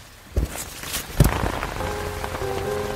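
Steady rain falling on surfaces, with a couple of sharp nearby thumps early on and a faint tonal hum entering toward the end, no voices.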